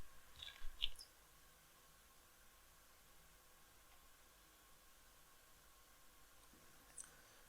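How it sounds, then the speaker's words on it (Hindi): A computer mouse click on a Continue button gives a few sharp, quiet clicks near the start. Low static hiss fills the rest, with one more faint click near the end. "क्लिक कर दूंगा मैं कंटिन्यू पे"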